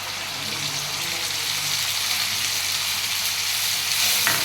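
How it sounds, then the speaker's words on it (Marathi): Onion and roasted ground masala paste frying in a pan for misal, a steady close crackling sizzle with light stirring, a faint clink near the end, no speech. "चांगला फ्राय करून घेऊ कांदा आपण मस्त थोडासा आपण ते भाजलेले ना ते वाटण आहे ते टाकू वाटण"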